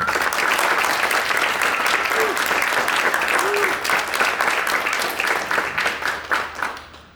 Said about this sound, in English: we're going to give a little round of applause for all of those folks.